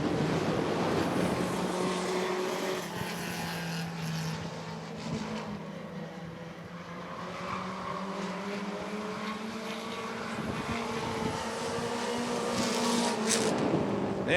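Winged race cars roar past together at Rockford Speedway during a women's heat race, a loud, steady engine drone of the pack that swells and fades slightly, with no talk over it.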